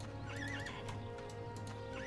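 Horses in the Albion Online video game whinny with rising, wavering neighs and clip-clop hoofbeats over steady ambient game sound, with no talk over them.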